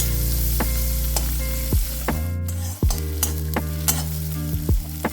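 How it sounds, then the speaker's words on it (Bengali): Chopped onions sizzle in butter in a hot pan while being made into tomato soup, a steady loud frying hiss broken by several sharp clinks and scrapes of a spoon stirring against the metal pan. "গরম কড়াইয়ের মধ্যে অল্প বাটার দিয়ে কুচনো পেঁয়াজ দিলাম"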